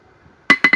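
Hammer blows on a cheap Harbor Freight anvil while forging a deer knife: three sharp, close, ringing metallic strikes in quick succession after a brief silence.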